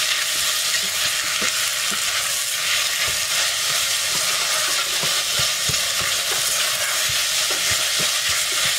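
Ground beef sizzles and fries steadily in a pot for a Peruvian sopa a la minuta, with a spoon stirring through it in soft intermittent scrapes, close and constant throughout.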